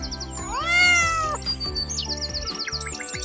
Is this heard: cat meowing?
yes